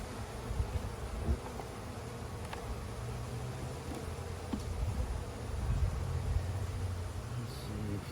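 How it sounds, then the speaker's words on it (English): Honey bees buzz steadily around an open beehive during a hive inspection, a continuous low insect hum over faint outdoor background noise with a few small handling knocks. "I see a lot of bees. Yeah, well, there are a lot of bees."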